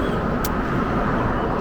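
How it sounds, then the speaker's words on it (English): Road traffic rumbles along a street in Southampton, Bermuda, a constant broadband wash of passing vehicles with a brief hiss partway through. "Back to all the noise and the traffic."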